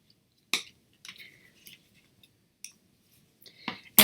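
Paper card stock is folded and creased with a bone folder in a quiet room, giving a few sharp crisp scrapes and softer rustling rubs spread out over a few seconds, close up.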